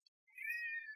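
A single drawn-out cat meow, clear and close, with a tiny click just before it, in an otherwise silent room.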